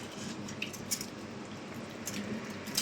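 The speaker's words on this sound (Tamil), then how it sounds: "உப்பு சேர்த்து நான் இதால் தான் மசிஞ்சு விட போகிறேன்." Boiled potatoes with salt are mashed using a utensil, producing soft, wet squishing and muffled pressing sounds close up, with a few faint clicks of the utensil against the vessel.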